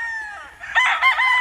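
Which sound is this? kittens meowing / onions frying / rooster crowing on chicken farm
rooster crowing on chicken farm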